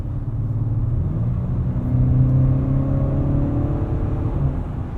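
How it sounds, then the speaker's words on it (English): 2019 Acura RDX A-Spec engine heard from inside the cabin on a twisty road, a steady smooth drone with rising tonal hum as the engine builds revs, continuous and fairly loud. "We've got some extra audio from the engine piped in, I assume through the speakers, or maybe even a sound tube."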